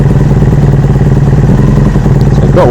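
A loud, close engine runs continuously with a rough, clattering idle and steady rumble throughout.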